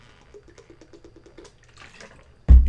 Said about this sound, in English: Excuse me while I drink some more water.